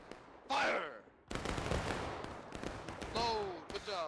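A company of Civil War-era soldiers fires a musket volley in the War of Rights game: a sudden loud crackling burst of many shots at once, with shouted voices before and after.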